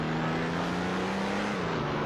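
Turbocharged DeLorean in the Roblox game Greenville, a steady synthetic engine drone with a whooshing turbo hiss that holds its pitch, then dips slightly near the end, loud and continuous with no talking.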